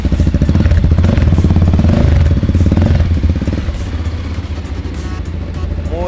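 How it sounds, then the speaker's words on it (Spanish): A Voge motorcycle engine, sharing a Kawasaki-derived motor, starts and is revved lightly, a loud close-up steady rumble with rapid firing pulses that swell and ease back. "Aceleramos un poquito."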